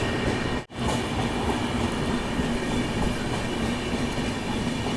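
Steady rumble and rattle inside the general coach of a moving Mithila Express on the Raxaul to Howrah route, continuous broadband rail noise with one brief dropout near the start, no voices.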